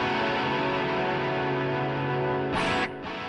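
A sustained electric guitar chord rings out with a shimmering, swirling chorus pedal texture from an iPB 10 programmable pedalboard, then a brief scrape cuts in near the end as the sound drops.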